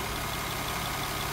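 A 2020 Nissan Maxima SV engine idles with a steady, even hum, close and constant, with no voices.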